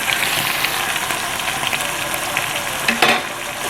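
Curry masala sizzles steadily in hot oil in a pan as it finishes roasting for a spicy Thai green curry, a continuous close, even frying hiss with a slight stir near the end.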